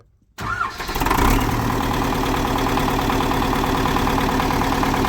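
An MTZ 82 tractor engine cranks and catches after a brief near-silent moment, then settles into a steady, loud diesel idle that carries on unbroken to the end.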